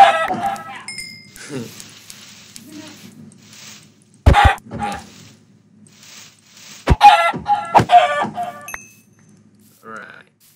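Minecraft chickens cluck in short bursts amid other game sounds, with a person talking over much of it and a few louder thumps scattered through.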